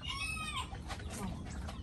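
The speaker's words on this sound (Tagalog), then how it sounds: "Serama chicken, smallest chicken in the world." A small Serama chicken clucks and chirps nearby, soft warbling calls over a bed of background murmur and handling noise.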